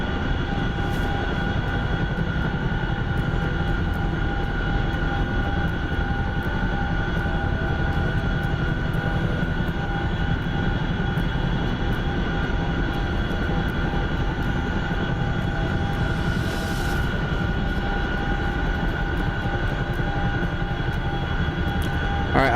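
A fixed-wing airplane engine drones steadily and fairly loud throughout an approach to an airfield, an even, unbroken hum with no talking.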